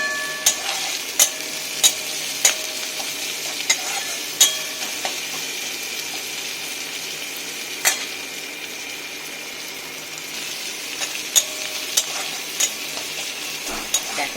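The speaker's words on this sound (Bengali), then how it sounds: "সেই পেঁয়াজটা আমি একটু লাল করেই ভেজে নিচ্ছি।" Onions fry in a pan with salt added, giving a loud, continuous sizzle broken by sharp, regular clicks of a spoon stirring and scraping against the pan.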